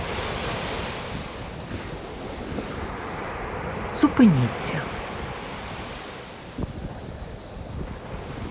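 Steady wash of sea waves with wind buffeting the microphone, a few brief clunks midway, and a soft voice speaking briefly.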